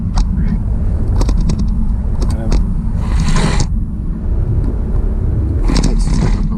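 A GT car drives up the Campsies hills, its steady low engine rumble and road noise filling the cabin with a few brief rattles, while a person talks over it.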